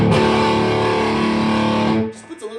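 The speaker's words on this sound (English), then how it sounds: "Push that little pack rat button." Electric guitar played through a Pack Rat distortion pedal, a loud sustained distorted chord with growly edge that rings for two seconds then stops, followed by faint quiet sounds.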